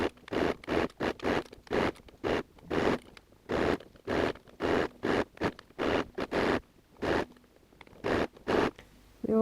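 A sewing machine stitches jersey stretch fabric along the fold for a raglan tunic, giving a steady run of short, close buzzing bursts separated by brief pauses, with no talking.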